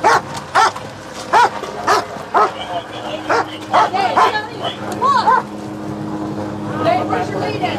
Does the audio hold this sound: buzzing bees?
no